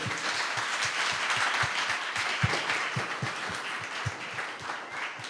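A church congregation applauds steadily for several seconds, a dense wash of many hands clapping together with a few louder individual claps standing out near the front.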